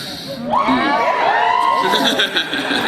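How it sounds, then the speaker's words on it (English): Convention panel audience at Dragon Con, with mothers in the crowd yelling "yeah" together in a loud, sustained burst of shouting and cheering with some laughter mixed in. "Only the moms just yelled out, yeah!"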